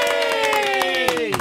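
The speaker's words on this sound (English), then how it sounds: "we give you a little applause for that" Brief burst of applause and cheering from a small gathered group, dense clapping with a voice or two calling out over it, close and steady throughout.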